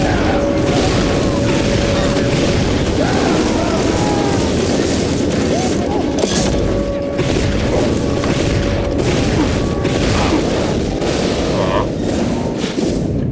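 Booming blasts from rocket launchers in the video game Team Fortress 2, a dense, continuous barrage of explosions and gunfire-like thuds throughout, loud and close, with voices talking over the chaos.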